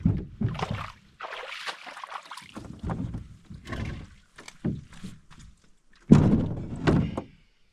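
A canoe bumps and scrapes against the shore while being parked at a Boundary Waters campsite, with several hollow thunks and rustling knocks, close by, ending in a louder pair of hull bumps.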